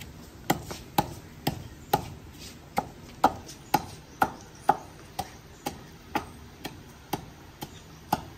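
Ginger and garlic pounded into a paste, heard as a steady, evenly spaced series of sharp knocks, roughly two per second, fairly close and alone without talk.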